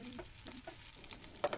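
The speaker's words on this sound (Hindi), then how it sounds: "उसके बाद हम हरी मिर्च को डाल देंगे।" Green chillies fry with golden-brown onions in a kadai over a medium flame, a quiet sizzle broken by several soft stirring scrapes and clinks, with no talk.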